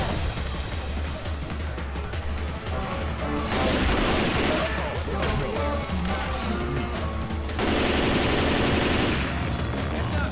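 Rapid automatic gunfire rattles nearly nonstop in the zombie shooter game Left 4 Dead 2, loud and dense, with heavier bursts of sustained fire in two stretches.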